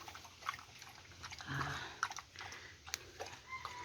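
A dog chewing and biting, with soft irregular crunches and gnawing sounds up close in a quiet room.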